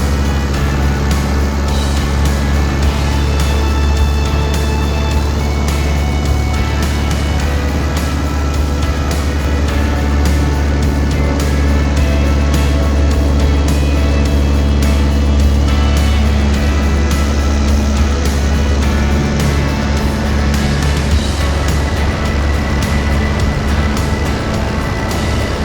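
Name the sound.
Van's RV6 airplane engine at full power, takeoff roll on grass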